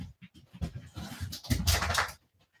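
Excited dogs pant rapidly and whimper up close in a rhythmic run of breathy huffs and whines that swells louder before stopping abruptly.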